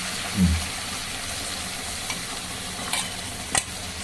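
Mustard and cumin paste with chilli frying in a pan, a soft steady sizzle with a few brief stirring knocks and scrapes, close by and without talk.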